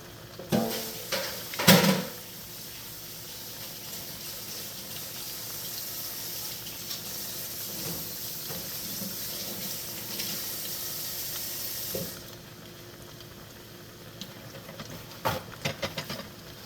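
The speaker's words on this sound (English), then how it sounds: "I'm getting ready to wash my hands." Tap water running into a sink during handwashing, a steady close hiss lasting about twelve seconds, with a few clattering knocks near the start and at the end after the flow stops.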